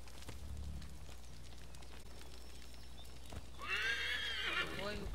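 Horse neighing and a whinny in the video game Assassin's Creed III, loud and near in the last second and a half, following quieter hoof clip-clop and game ambience; a voice talks briefly early on.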